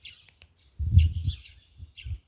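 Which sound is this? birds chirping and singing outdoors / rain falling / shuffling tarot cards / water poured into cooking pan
birds chirping and singing outdoors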